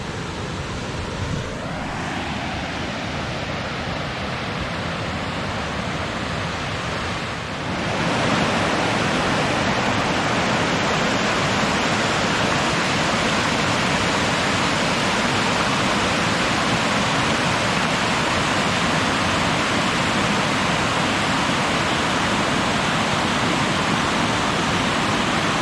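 A waterfall on Choke Creek along the Pinchot Trail roars in a dense, continuous rush, growing noticeably louder and closer after several seconds and then holding steady, with no voices.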